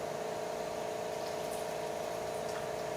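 Filtered water streams steadily into a glass jar, giving a continuous close pouring and filling hiss with no talking.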